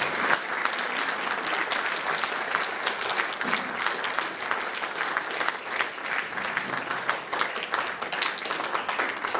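An audience applauds steadily as a speaker is welcomed to the lectern at a speech evaluation event, with dense, even clapping that holds for about nine seconds without a break.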